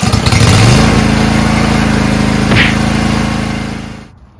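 A lawn tractor engine starts and settles into a loud, steady idle close by, then cuts off abruptly at the end.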